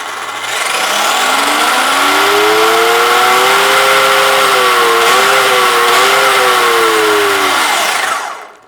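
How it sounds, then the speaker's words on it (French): Arrma Outcast EXB 1/5 scale RC car running with a rising, sustained high-pitched whine from its gears and motor, holding steady with slight wavering for several seconds, then winding down and cutting off; loud and close, no talking. "écoute le son de ces pignons"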